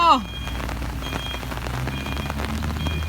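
Steady rain falls on a work site, a continuous hiss with a low rumble underneath, close and even throughout, with a faint repeating tone in the background.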